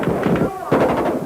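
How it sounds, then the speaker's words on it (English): Kalashnikov rifles firing during the October 1993 Moscow street clash near the White House, a rapid series of sharp cracks and pops echoing in the open while a narrator speaks over them. "firing broke out."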